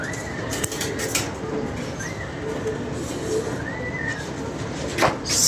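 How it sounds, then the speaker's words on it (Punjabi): Pigeons near the coop coo softly in short rising calls, with a few bursts of wing flapping and rustling over steady background noise on a hot day. "ਸੱਤ ਕਬੂਤਰ ਉੱਤੇ ਨੇ"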